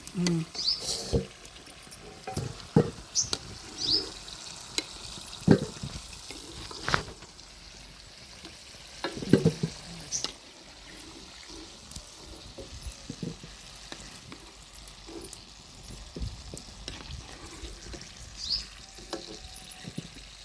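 Indian gooseberries (amla) frying in hot oil for a pickle, a steady bubbling sizzle with occasional utensil knocks and stirring clatter throughout, fairly quiet and close, no talking.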